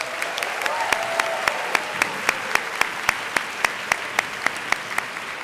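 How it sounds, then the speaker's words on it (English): Steady crowd applause for the finalists at a debating championship final, a dense even wash with one clapper's sharp rhythmic claps standing out near the front throughout. "one last round of applause for all the ESL finalists"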